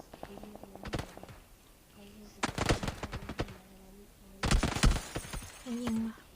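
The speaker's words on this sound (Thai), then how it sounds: "ใครยิงวะ" Bursts of gunfire from a PUBG match crack out in rapid clusters, separated by footstep-like taps and quiet gaps, fairly loud and sharp, with someone talking between the shots.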